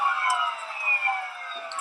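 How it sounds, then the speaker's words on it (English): Police car sirens wail steadily at a protest, a continuous rising and falling tone that carries loud and unbroken throughout, with no talking over it. "The police literally trolled them by just putting their sirens on so they couldn't yell."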